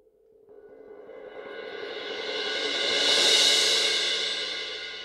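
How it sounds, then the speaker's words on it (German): A cymbal roll swells steadily from soft to loud, its shimmering wash spreading wide and peaking near the end before easing slightly. "also sind diese Cymbal Rolls wesentlich breiter und es kommt mehr wie so eine Welle"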